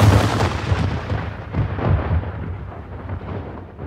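A massed musket volley from a rank of soldiers booms out as one heavy, rumbling blast, then rolls away and fades over a few seconds, loud and close with no voices.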